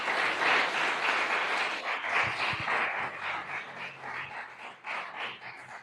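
A church congregation breaks into sustained applause, a dense, even wash of many hands clapping. It tapers off slightly toward the end.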